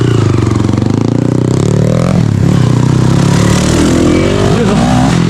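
Motorcycle engine running steadily and close during a trail ride, its pitch rising and falling as it revs and accelerates, with some clatter throughout.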